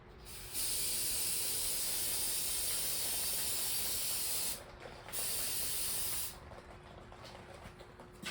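Carburetor cleaner sprayed onto the leaking carburetor of a Cub Cadet LTX1040 lawn tractor, two close, steady hissing bursts of roughly four seconds and two seconds, with a quieter hiss trailing afterward.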